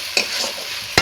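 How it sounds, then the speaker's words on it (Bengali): Ginger-garlic paste sautéing with onion and tomato in a pan, a low constant sizzle marked by two sharp scrapes of a spoon stirring the thick mixture, near and without speech. "আদা রসুনটা খুব ভালোভাবে কষিয়ে নেব পেঁয়াজ টমেটোর সাথে"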